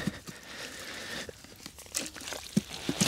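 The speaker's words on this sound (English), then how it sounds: "So we're gonna take our trowel here" A trowel digs out a muskrat trap pocket in creek mud, giving soft, close scraping and wet crunching sounds in irregular bursts at low volume.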